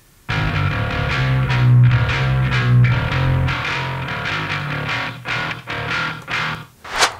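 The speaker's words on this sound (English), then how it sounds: "cutting out that common problem area of 200 to 400 hertz in a bass guitar" Heavy metal bass guitar with the low end and the 200 to 400 Hz region scooped out by filtering, a distorted, gritty riff of steady picked notes played alone at full level before stopping abruptly near the end.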